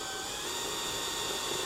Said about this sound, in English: Now I can drill this